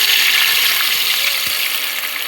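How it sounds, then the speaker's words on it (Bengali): Turmeric and salt water pours into a hot pan of cooking hilsa fish, a loud, steady close hiss and gush of liquid hitting the pan, with a faint clink midway. "এবার আমি যে হলুদ আর নুন দিয়ে জল দিয়ে গুলে রেখেছিলাম, সেই হলুদ নুন দিয়ে জলটা আমি দিয়ে দেব"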